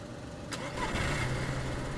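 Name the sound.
car engine starting in DayZ video game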